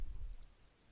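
A computer mouse clicks twice in quick succession, faint and close, against near-silence.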